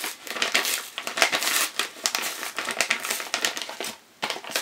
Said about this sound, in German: indem wir diesen Umschlag hier jetzt öffnen